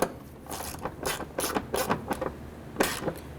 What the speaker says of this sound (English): We're going to use our 13mm shallow socket with a short extension, and just run that all the way down.